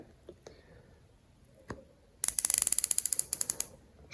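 Close, quiet handling noises, then the milliradian turret of a Vector Optics Orion Pro MAX 5-30x56 FFP scope is rotated, giving a rapid, even run of around fifteen firm, tactile clicks.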